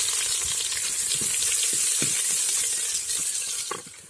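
Sliced onion frying with curry leaves and mustard seeds in hot oil, a loud close sizzle with sharp spitting crackles and a few stir clinks, easing slightly at the end, no one speaking.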